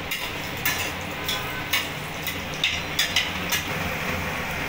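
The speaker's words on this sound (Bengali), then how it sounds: "আলুটাকে আমি একটু লাল করে ভেজে নেব।" Potato pieces fry on a high gas flame, a faint, soft sizzle with several light clicks of a utensil against the pan, and no talk.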